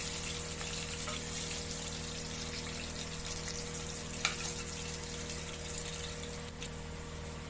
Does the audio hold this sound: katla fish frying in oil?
yes